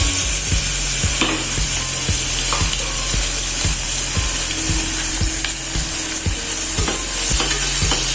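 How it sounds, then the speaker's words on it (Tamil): Onions frying in oil toward golden brown, a steady loud sizzle throughout with regular clacks of a spoon stirring the pan, close up and without talk. "இப்போது இந்த ஆனியனை நம்ம நல்லா கோல்டன் ப்ரௌனில் நம்ம ஃப்ரை பண்ணி எடுத்துக்கலாம்."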